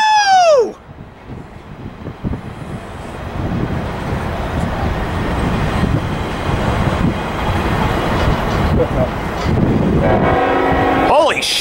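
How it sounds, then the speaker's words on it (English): A heavy loaded coal train rumbles past up close descending Cajon Pass, steady grinding and clattering of wagons, with a loud horn blast at the start and again near the end. "we have a coal train coming down the pass."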